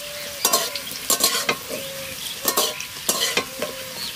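Browned potatoes and squash frying in a pan, a continuous loud sizzle broken by repeated scraping stirs in an uneven rhythm, close up with no voices.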